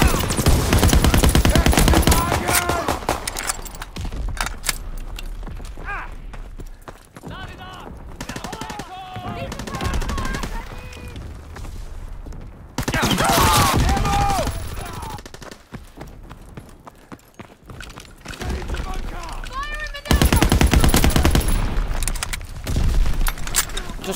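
Bursts of World War II era gunfire in Call of Duty WWII, loud rapid volleys at the start, middle and end with quieter gaps, someone talking in between.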